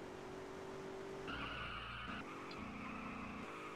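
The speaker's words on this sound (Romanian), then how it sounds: "Ah, mamă, ce drifturi, ești nebun." Car drifting in GTA San Andreas multiplayer, with a steady engine drone and long sustained tire squeals that shift pitch partway through, continuous and fairly quiet throughout.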